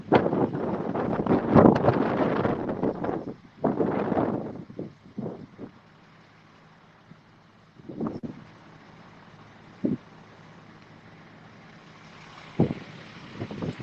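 Outdoors near a wildfire, wind buffets the microphone in loud, uneven gusts early on, then fades to scattered short blasts over a quiet background.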